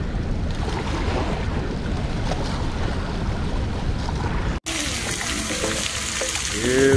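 Water splashing at the Sardis spillway splash pad on a hot day, a dense continuous rush of spray and falling water, loud and close, with a brief cut partway through and faint voices afterward.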